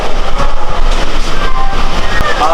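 A long-distance Indian passenger express train with sleeper coaches and a pantry car, heard as a loud, steady rolling rumble of carriages close by, with faint squeal and clatter and no talk.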